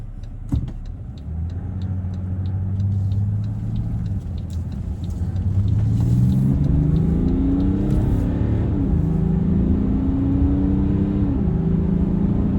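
A 2015 BMW 740Ld diesel engine pulls hard under full throttle, its droning note climbing steadily through the gears, loud and close with a low rumble beneath.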